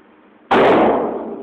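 A single gunshot at bull's-eye pistol shooting practice: one sharp, loud, close crack bursts out of quiet and then decays over about a second.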